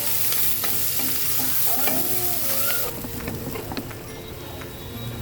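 Cloves, cardamom, bay leaves and chopped ingredients frying in oil for a beef tripe dish, a loud steady sizzle with stirring scrapes and clinks that drops slightly in level partway through.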